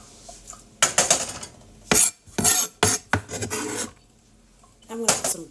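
Chopped green onions are tipped into a cooking pan in several loud, scraping, rustling bursts, with brief pauses between them and one final scrape. No one speaks.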